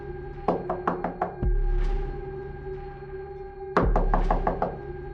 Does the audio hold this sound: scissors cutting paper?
no